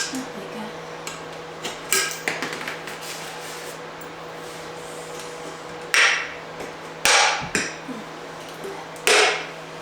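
A tin of primer or knotting solution knocked and shaken before painting wood, giving clanking metallic knocks in scattered bursts, several louder clustered strikes toward the end, close by.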